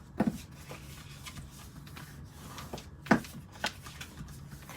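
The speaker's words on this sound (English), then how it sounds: "We'll go ahead and fold on the score lines, and I'm going to burnish it with my bone folder." Paper folded on score lines and burnished with a bone folder, a soft papery rubbing with a few crisp creasing snaps, close and fairly quiet, with no talking.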